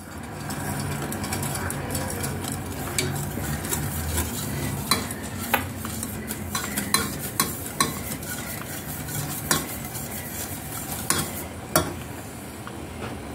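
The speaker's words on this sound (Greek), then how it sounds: "Δουλεύουμε με το σύρμα. Καλά καλά να διαλυθεί το κακάο." A wire whisk beating a cocoa mixture for a no-bake fridge dessert, a steady scraping swish in the bowl with repeated sharp clicks of metal against the rim, growing more pronounced midway.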